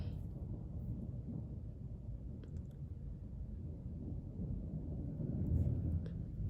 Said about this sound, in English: We have got a serious storm cell right on top of us tonight.